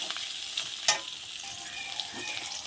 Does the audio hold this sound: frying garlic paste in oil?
yes